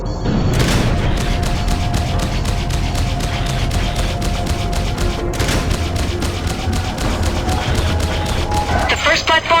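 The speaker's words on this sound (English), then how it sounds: "We're taking heavy fire from its turrets" Spaceship turret fire in Freelancer space combat, loud rapid repeated blasts and booming impacts in a continuous barrage, with voices heard over the din.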